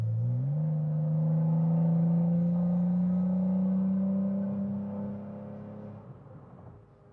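A BMW M340 with a tuned B58 turbo engine accelerates at part throttle around 60 mph, a smooth, steady drone that rises in pitch, then fades and settles toward the end.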